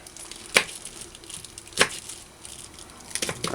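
A kitchen knife dices vegetables on a board for a Jamaican conch and okra brown stew: a few sharp, sparse chops spaced more than a second apart over soft background noise, with no talking.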